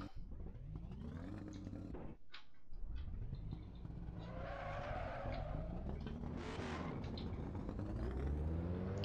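Car tires squealing and skidding under braking through a curve, a long sustained screech over engine noise that shifts in pitch, heard alone without talk.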